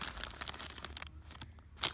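A Playmobil plastic bag, for a ski hut set, is crinkled and torn open up close, with a run of dense rustling crackles followed by a short, sharp rip near the end.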